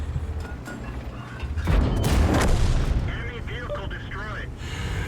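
A Stuart tank's gun hits an enemy turret in a tank video game, a heavy booming impact burst mid-clip followed by mechanical creaks, with a voice talking throughout.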